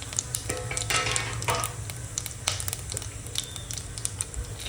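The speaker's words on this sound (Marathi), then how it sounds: "चांगलं तडतडून घेऊ आपण" Cinnamon, peppercorns, cumin and asafoetida crackle and sizzle in hot oil, a dense continuous frying hiss with scattered pops and a low stove hum, heard close with no talking.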